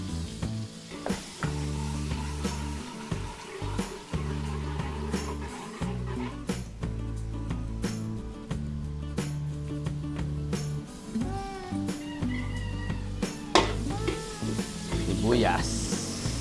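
Garlic sautés in hot cooking oil and margarine, a loud continuous sizzle and crackle with intermittent stirring clatter from the spoon in the pan, steady throughout.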